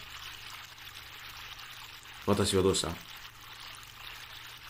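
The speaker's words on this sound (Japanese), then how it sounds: "川だね。" A river flows steadily in the horror video game Yurikago no Yume, a soft continuous wash of water heard throughout, briefly masked by a short spoken phrase.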